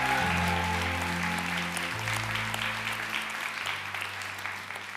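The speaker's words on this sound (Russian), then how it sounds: "Ваши аплодисменты, друзья, громче, громче, громче!" Loud, dense applause from a large audience at a graduation ceremony, the all-Russian student graduation opening, continuing throughout over sustained low musical chords that shift pitch twice.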